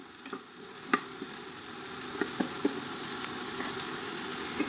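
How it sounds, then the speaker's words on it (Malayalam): Gooseberries frying in hot oil in a pan for a Kerala-style chutney, a steady close sizzle with a few sharp pops and spatters scattered throughout, no voices. "എണ്ണയിലൊന്ന് ചൂടാക്കിയെടുക്കാം നെല്ലിക്ക ഒരു രണ്ട് മിനിറ്റോളം കുക്ക് ചെയ്തെടുത്താൽ മതി"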